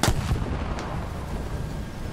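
Gunfire strikes a player's tank in the War Thunder video game, heard as a couple of sharp, loud impacts at the start followed by a sustained rumbling, noisy battle wash with no talking.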